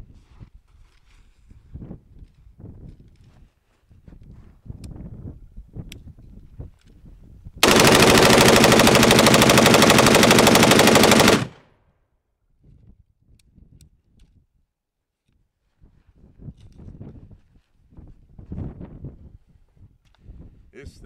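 A USAW urban squad automatic weapon fires from the prone position in one long, loud automatic burst of about four seconds, set between quiet outdoor stretches of faint wind and rustling.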